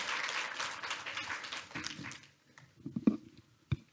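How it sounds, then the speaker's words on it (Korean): Audience at an academic lecture on climate crisis and ESG applauding to welcome the speaker, moderate clapping that fades out after about two seconds, followed by quiet room shuffles and a few thumps. "큰 박수로 맞이해 주시면 감사드리겠습니다."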